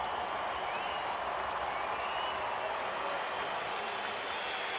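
Steady applause from a large stadium crowd at an IPL cricket match between CSK and MI, greeting a dot ball, a continuous dense wash of clapping and crowd noise at constant loudness.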